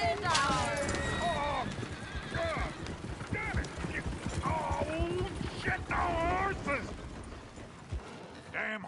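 Horse neighs and whinnies repeatedly over steady clip-clopping hooves in the game Red Dead Redemption 2, with voices talking throughout.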